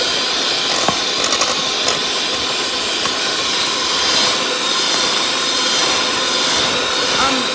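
An electric mixer whirs through raspberry lemon cookie dough as a loud, steady, hissing hum that runs without a break, close by, with speech faint beneath it.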